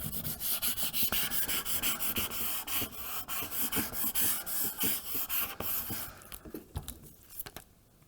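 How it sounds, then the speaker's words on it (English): A scraper tool rubs a Cricut stencil design onto transfer tape in quick, repeated scratchy strokes, close and distinct, the rhythmic rasping slowing and thinning toward the end. "I'm going to use my scraper tool just to make sure we've got all of the design done."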